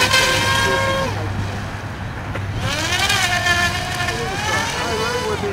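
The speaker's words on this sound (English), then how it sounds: "Whoa! Oh, nice. Speedboat." A speedboat engine drones steadily and loudly, its pitch rising and falling as it passes close by, with outdoor wind and water noise.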